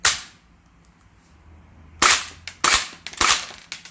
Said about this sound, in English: They are designed for ejecting shells, which they do very well.